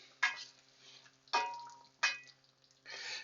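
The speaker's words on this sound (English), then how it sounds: "Give that a good stir" Grouse taco filling is stirred in a pan in four separate scraping, sizzling strokes with quiet gaps between them, close and fairly soft.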